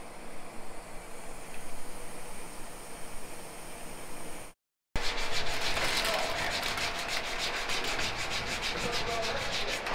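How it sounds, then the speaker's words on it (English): Sanding the back of a gauge cluster part for a 1968 Dodge Charger R/T, a continuous close rasping rub with a brief pause midway, then faster strokes. "I have to sand the back and get the depth set correct."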